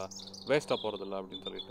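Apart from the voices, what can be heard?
bird calls in background outdoors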